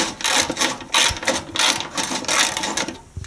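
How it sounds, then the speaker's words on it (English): Wrench working a badly rusted square-head bolt on a race go-kart mower, a series of close metallic ratcheting bursts in an uneven rhythm, heard alone. "I'm trying to take that bolt off."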